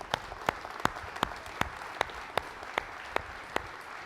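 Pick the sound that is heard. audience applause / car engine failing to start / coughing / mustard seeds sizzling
audience applause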